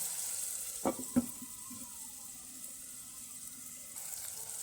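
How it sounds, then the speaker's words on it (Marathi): Sliced onions fry gently in a pan for prawn biryani, a soft, even sizzle with two sharp utensil knocks early on and otherwise little movement. "आता आपण उभा चिरलेला कांदा घालून घेऊ कांदा आता आपण छान असा गोल्डन ब्राऊन शिजून घेऊ"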